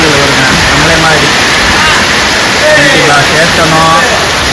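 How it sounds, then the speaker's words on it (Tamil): Heavy rain pours down at a market in Dindigul, a loud, dense, unbroken roar throughout. Faint voices and a passing vehicle can be heard beneath the downpour. "நல்லா மழை பெய்யுது கண்ட்ரஸ்."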